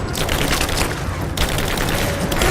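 Gunfire in Rise of the Tomb Raider: a loud, close, sustained barrage of rapid shots crackling without pause, with a short dip midway before the volley resumes.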